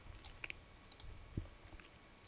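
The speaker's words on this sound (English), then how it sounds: "I click on the primary folder, I control or I right click" A computer mouse clicks a few times in a quiet room, crisp and close, with sparse taps spread across the moment.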